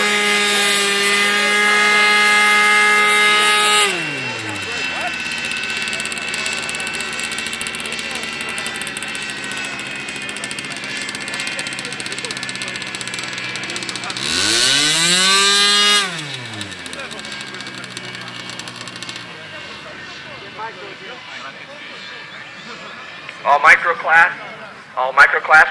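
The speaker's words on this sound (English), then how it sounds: "Let's keep a close watch on this airplane. It's twin engine configuration. They easily take off." Buzzing engines of a twin-engine model airplane at an SAE Aero Design competition whine loudly, pitch sweeping down and up as it passes, with a second pass midway and brief talk near the end.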